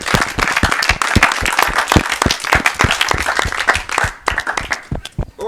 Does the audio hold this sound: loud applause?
yes